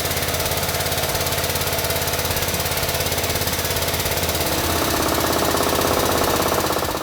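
A shop press drives a bearing, pushed by a socket on its race, into the gear case of a 6-inch GDP portal from SuperATV, a loud continuous mechanical drone that builds slightly as it goes.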